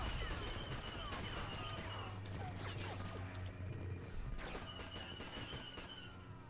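Rapid turret gunfire in Star Wars Battlefront 2, a dense run of sharp blaster shots and impacts from a fairly distant gun, faint overall against game noise.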